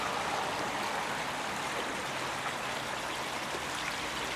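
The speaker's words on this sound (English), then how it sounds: "lovely noise of the water." A small burn running through Scottish woodland near Penicuik, its water rushing and trickling in a continuous, close, even wash with no voices over it.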